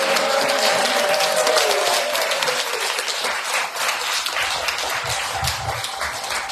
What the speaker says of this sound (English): Clapping for them.